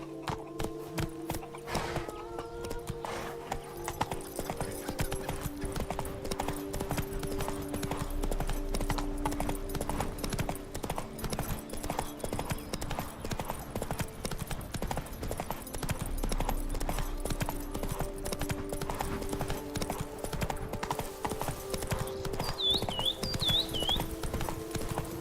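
Horse hooves clip-clop in a steady trotting rhythm throughout, a continuous even gait heard close in the Witcher 3 video game, with game music underneath.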